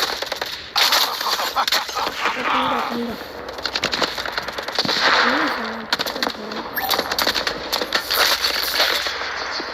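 Rapid gunfire crackles in the shooting video game Urban Heat, dense bursts of loud shots running almost continuously while someone talks over the action.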